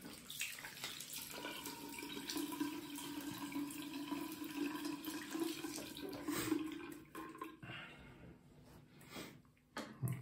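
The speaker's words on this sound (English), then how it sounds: "So I'm just going to wet my face a bit." A bathroom tap runs steadily in a continuous close rush of water while a man wets his face before a wet shave with a Merkur 34C HD razor, then the flow tapers near the end.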